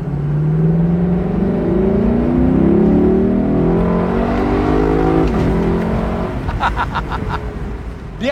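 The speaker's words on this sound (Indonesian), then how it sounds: "Di atas 5000 RPM bunyinya langsung berubah. Bunyinya benar-benar berubah seperti mobil V8 old school." A Lexus in sport plus mode revs hard past 5000 RPM, its engine note climbing steadily in pitch and turning into a deep, old-school V8-like roar, loud and close, with a brief shift and renewed pull near the end.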